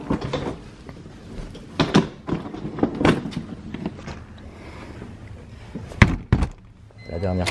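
A room door in a Japanese apartment being left for the last time closes with a few solid thuds and knocks, two sharp ones close together near the end, amid handling noise and some voice.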